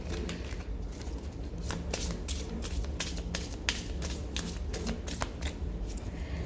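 A Lenormand card deck is shuffled close up, producing a continuous papery riffling rustle with repeated sharp flicks and snaps over a steady low background hum.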